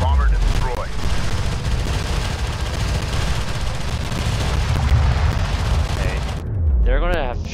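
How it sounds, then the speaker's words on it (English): Heavy turret emplacement firing on a fleet in Homeworld: Deserts of Kharak, a continuous dense roar of gunfire and explosions with game voice alerts and a player talking over it. "Fleet is taking fire from heavy turret emplacement."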